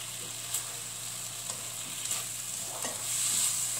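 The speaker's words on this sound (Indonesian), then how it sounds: "kita tumis agak sedikit matang bumbunya ya" Spices with coriander are stirred and sautéed in a pan for semur jengkol, a steady low sizzle broken by occasional spatula scrapes and taps, growing slightly louder toward the end.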